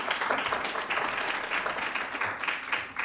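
Audience applause after a speaker is introduced at a Spanish-language medical talk on neurodevelopmental disorders, steady dense clapping filling the whole stretch, with no talking over it.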